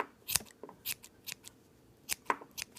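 Scissors snip repeatedly at a yarn pom-pom, giving a series of quiet, crisp, close cuts in an uneven rhythm with short gaps between them.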